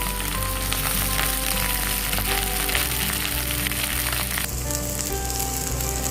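Okra (bhindi) fries in oil in a kadhai, producing a loud, constant, crackling sizzle that holds steady from start to finish without pause.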